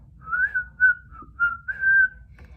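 Someone whistles a tune in five short phrases, each a clear steady or gently gliding note with small pauses between, close and bright over a quiet low hum.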